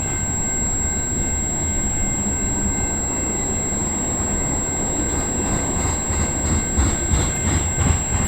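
Freight train with Burlington Northern coal hoppers rolling steadily past at Egerton St in London, Ontario, a continuous loud rumble and rail noise with faint wheel clatter building near the end.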